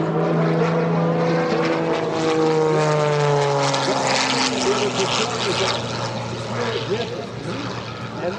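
A propeller aerobatic airplane flying a maneuver at the EAA AirVenture 2024 airshow roars loudly overhead, its engine pitch sliding steadily downward as it passes, and an announcer talks over the noise.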